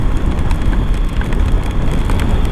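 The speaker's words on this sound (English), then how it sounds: "it's been miserable, really heavy torrential rain" Heavy torrential rain falls in a dense, loud, steady roar with wind buffeting the microphone, continuous and close, with no voices.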